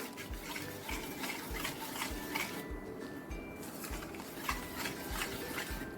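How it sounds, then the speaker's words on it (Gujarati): Chopped onions are stirred into uttapam batter in a bowl, a rhythmic series of close, wet squelching spoon strokes repeating about twice a second. "હવે આમાં હું કાંદા એડ કરી દઉં છું અને આને આપણે હવે સરસ રીતે હલાવી લેશું"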